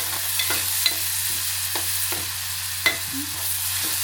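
Garlic and coriander-chili paste sautéing in a pan: a steady sizzle with a few spoon scrapes and taps against the pan, close and fairly loud, with no voices.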